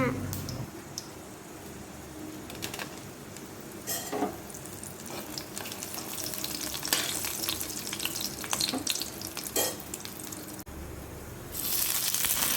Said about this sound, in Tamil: மிளகா போட்டு வதக்கிக்கோங்க